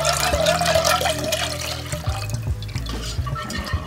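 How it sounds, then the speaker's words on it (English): Water boiling in a pot on the stove for linguine, a close, busy bubbling and rolling splash that carries through the whole moment, with faint kitchen clatter and no talking. "now I hear my water boiling for the linguine"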